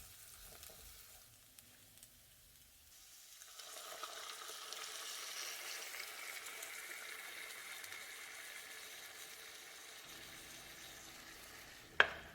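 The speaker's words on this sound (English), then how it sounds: "once my onions have had a chance to saute, I'm going to add my salsa" Salsa poured into a pan of sautéed onions sets off a soft, steady sizzle that rises after a few seconds and holds, ending with a sharp clink of a utensil, no talking.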